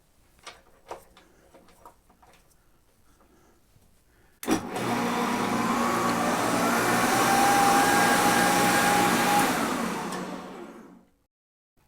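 A Shopsmith woodworking machine switches on with a sharp onset and spins up to high speed, a loud steady motor whine with a rising tone that holds for several seconds, then cuts off and winds down to silence.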